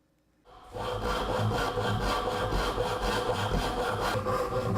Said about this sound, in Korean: 톱질을 하여 사계 부분이 들어갈 부분을 가공합니다.